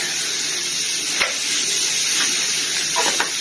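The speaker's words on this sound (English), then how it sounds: "So now we're going to put the burger patties on the grill." Burger patties for a homemade double cheeseburger sizzle steadily on a grill, a dense, continuous frying hiss with a few small pops and crackles and no talking.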